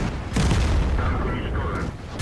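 A single heavy tank cannon shot from the IS-6 in World of Tanks, a loud booming blast that starts abruptly and rumbles on as a long low roar.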